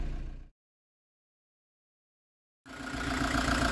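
A camper van engine idles while the van reverses in the dark on a flooded road, a low steady rumble that cuts out completely for about two seconds and then returns.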